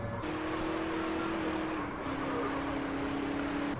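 A car drives in the video game GTA San Andreas, its engine giving a steady, loud hum with a sustained tone that shifts pitch once partway through, alone with no talk.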